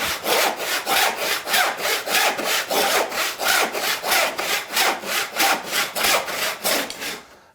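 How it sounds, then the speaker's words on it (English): A hand saw cuts through wood in steady, rhythmic back-and-forth strokes, loud and close, about two strokes per second, with no talking. "I just need to let the saw do its work."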